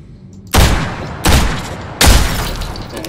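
Three sharp gunshots from a video game weapon ring out about a second apart, each a loud booming crack that decays quickly, with no talking.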